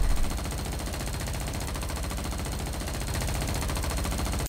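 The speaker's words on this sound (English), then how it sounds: "a machine gun's audio would just loop over and over and over endlessly" Machine gun fire looping endlessly as an audio glitch in the XIII remake video game, a dense unbroken rattle of rapid shots at steady loudness with no pauses, alone.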